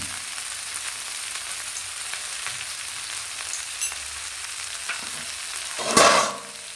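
Spinach and vegetables for a prawn and spinach curry sizzle softly in a pan, with a few quiet taps before one loud, close stirring scrape near the end.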